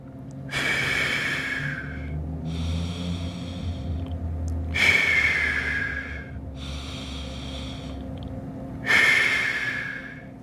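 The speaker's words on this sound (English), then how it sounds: "I'm gonna start that breathing." Slow, deliberate breathing during a floor-based hip mobility drill, with three long loud exhalations at steady intervals and quieter inhalations between, close to the microphone with no talking.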